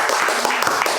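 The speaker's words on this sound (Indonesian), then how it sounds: "Kamu harus tepuk tangan" Hands clapping in a dense, fast burst of applause lasting about a second.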